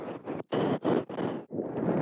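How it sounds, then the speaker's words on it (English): Heavy wind buffets the microphone in loud bursts, several rough gusts separated by brief lulls. "But why does it have to be so windy?"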